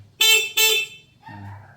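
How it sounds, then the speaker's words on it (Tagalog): Two short, loud horn beeps in quick succession from a Vespa-style NWOW WSP e-bike, followed by a softer, lower electronic tone fading out. "So ito sir, busina niya."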